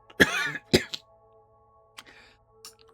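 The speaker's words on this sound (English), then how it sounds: "Yeah, that cough wasn't a bit. That's my throat actually getting sore." Two sharp, close coughs from a person with a sore throat, followed by a faint throat clearing, set against a quiet room with a low steady hum.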